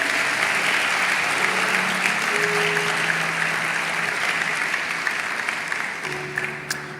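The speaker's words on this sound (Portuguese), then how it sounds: "Você pode aplaudir o nome de Jesus por esse fundamento" Church congregation applause at a revival conference, sustained dense clapping from a large crowd, loud and steady throughout, with faint tonal notes and a few cheers mixed in.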